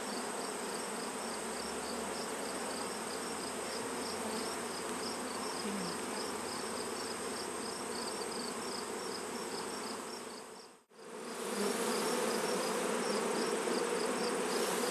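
Honey bees at a backyard hive in Swanzey, NH, in late summer, hold a steady, dense buzz for the whole stretch, with a brief dip near the end before the hum comes back at full strength.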